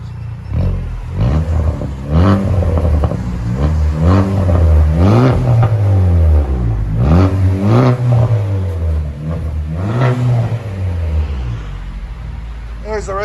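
2019 Chevy Malibu LT with a 1.5L turbo engine and straight pipes, heard from inside the car, revving in a series of loud, deep blips that rise and fall, with a voice between revs.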